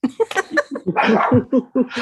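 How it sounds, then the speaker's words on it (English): A dog barks repeatedly indoors during a home video call, a rapid run of close, loud, sharp yaps and barks in an uneven rhythm, with a brief burst of breathy noise in the middle. "Sorry, I have a dog."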